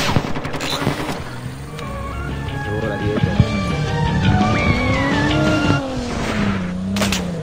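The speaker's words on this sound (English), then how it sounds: "This guy's coming in on the car." Car engine approaching in a first-person shooter video game, a rising and falling motor whine amid bursts of gunfire and tire squeals, with a voice speaking over it.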